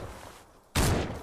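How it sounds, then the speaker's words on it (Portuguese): Gunfire in the video game Fortnite: a quiet stretch suddenly breaks into a loud, close burst of rapid shots that carries on to the end. "Tá tomando tiro no topo do morro."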